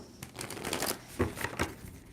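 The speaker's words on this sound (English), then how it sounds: "2 more shuffles for Aquarius." A tarot deck being shuffled close by, a few soft papery riffles and taps in quick succession, fairly quiet, with no talking.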